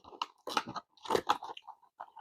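Pickles from a Whopper being chewed up close, several moist, soft crunching bites in uneven bursts separated by short pauses, fairly quiet and without talking.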